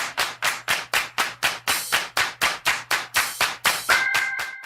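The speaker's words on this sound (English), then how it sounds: "Clap your hands!" A single pair of hands claps in a steady rhythm, about fifteen sharp, close claps spaced evenly at roughly three per second, alone without talk.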